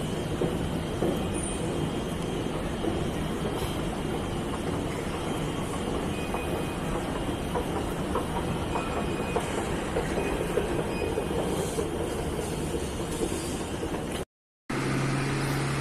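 Steady rolling rumble of a train at a station, continuous and fairly loud throughout, with a brief dropout near the end.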